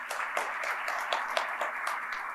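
An audience applauds a chief guest at an education conclave in Chennai, a faint, fairly distant patter of many hands clapping steadily for a couple of seconds with no voices over it.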